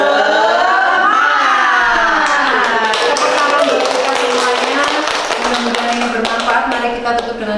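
A group of children in a school setting performing the tepuk semangat clapping chant, loud rhythmic claps in patterned bursts mixed with sung, shouted voices, continuous and close.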